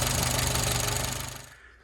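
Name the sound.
Renault Trafic C1J engine running after exhaust manifold repair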